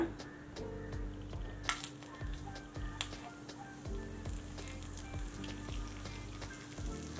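Fine chiroti rava semolina roasts slowly in ghee over a low gas flame, giving a steady, gentle sizzle with frequent small ticks and scraping stir sounds close up.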